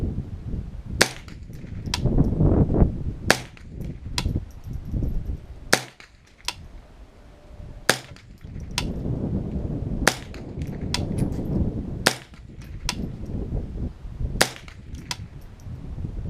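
AR-15 rifle fired at a target 100 yards away, a series of about ten sharp cracks spaced roughly one to two seconds apart over steady outdoor background noise.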